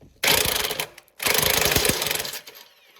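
An electric impact gun hammers at a stubborn exhaust bolt under a Nissan Maxima in two loud, rattling bursts separated by a brief pause, close by, with no talk.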